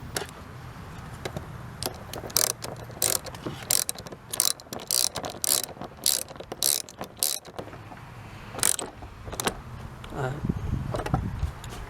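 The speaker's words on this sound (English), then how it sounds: "Get that bolt tight." A ratchet tightens a bolt on a 2004–2009 Kia Spectra during a front turn signal bulb replacement, giving bursts of quick, close clicking strokes with short pauses between them.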